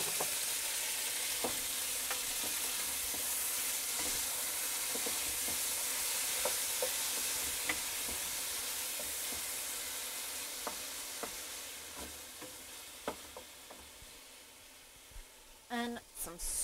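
Garlic and sliced cherry tomatoes sizzling in a pan, a steady close hiss of frying that slowly fades, dotted with soft clicks of stirring and a few sharp clatters at the end.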